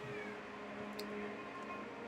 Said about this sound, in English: the cat's coming to make a nuisance of himself again